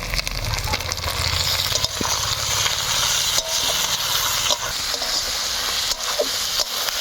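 Chopped tomatoes and ginger-garlic paste fry with onions in a pan, a steady dense sizzle running throughout with occasional stirring knocks and scrapes, close and fairly loud.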